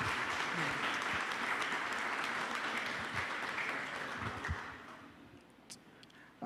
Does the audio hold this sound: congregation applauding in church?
yes